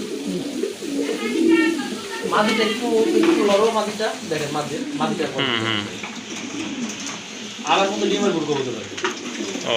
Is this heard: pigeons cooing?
yes